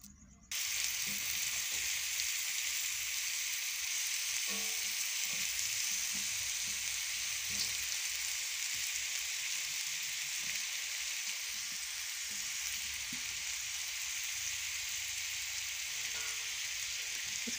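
Steady, close sizzling from a radish and green chilli omelette frying on a griddle, starting abruptly as the egg hits the hot surface and continuing evenly, with faint clinks and no talk.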